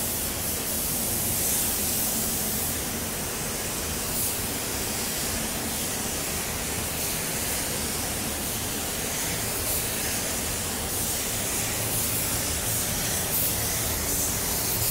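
A paint spray gun lays down intercoat clear blending additive on automotive bodywork. It gives a continuous, even, close hiss that holds steady the whole time with no pauses, and no voices are heard.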